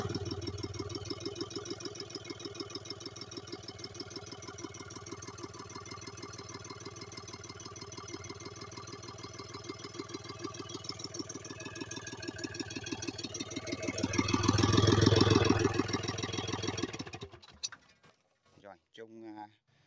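A K3M engine fitted with a Mitsubishi piston pump runs nearby with a steady, droning mechanical hum and a rapid rhythmic pulse. It swells louder near the end, then cuts off abruptly, leaving a few faint clicks.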